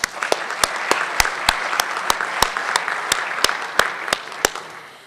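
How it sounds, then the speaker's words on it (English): Audience at a Socratic panel applauding, a brisk wash of clapping punctuated by sharp, distinct close claps at a quick, fairly even rhythm. "so give yourselves a round of applause."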